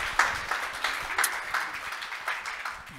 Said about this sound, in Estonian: Teeme aplausi Kaupo Mändlale.